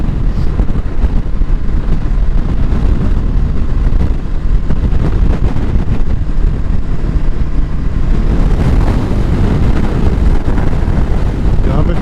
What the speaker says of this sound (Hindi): बहुत तेज़ हवा आ रही है।